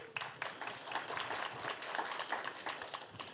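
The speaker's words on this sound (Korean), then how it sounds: "큰 박수로." A seated audience at a Gyeongbuk regional panel forum on low birth rates and an aging population gives sustained, moderately dense applause. The clapping sounds fairly faint and distant throughout.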